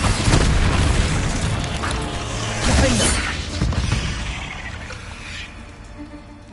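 In Hogwarts Legacy the Bombarda spell goes off as a loud booming explosion with a shattering burst. A second heavy blast follows a few seconds later, then both trail off into a fading rumble.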